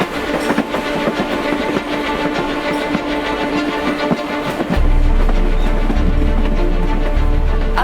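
A Mumbai local train runs on its tracks between Mira Road and Virar. It makes a loud, close rumble with rhythmic clacking from the rails, and the low roar swells noticeably partway through, with no voices over it.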